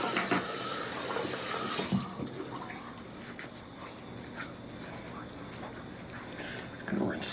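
A bathroom tap runs water for rinsing the face during a wet shave, a steady close hiss that is strongest at first, then settles lower and surges again near the end, with talk over it.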